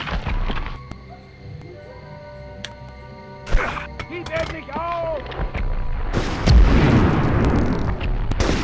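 A grenade blast in the 1999 Medal of Honor video game arrives as loud booms and gunfire-like bursts over a busy game soundscape, with a voice talking over the action.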